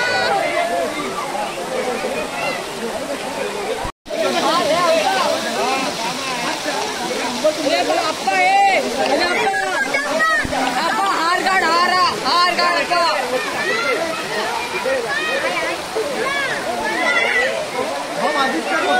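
Water sloshes and splashes continuously during a Ganesh idol immersion, mixed with lively voices of a crowd talking nearby.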